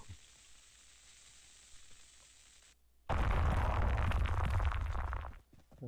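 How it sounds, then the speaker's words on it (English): A bomb detonates in a video game, a sudden loud, sustained roaring blast that cuts in after a quiet stretch and rumbles heavily for a couple of seconds before fading. "So blowing up a bomb, that introduces the player to the bomb mechanic."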